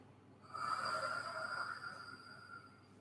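A single long, breathy exhale during an abdominal and pelvic-floor contraction exercise, steady and fairly close for about two and a half seconds before fading out.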